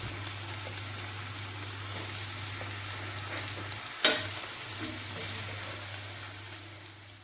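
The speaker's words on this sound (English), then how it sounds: "So I'm going to fry my oranges first of all. Get it brown on each side." Oranges fry in healthy oil in a pan, giving a steady low sizzle and crackle throughout with one sharp clatter midway, close and moderately quiet.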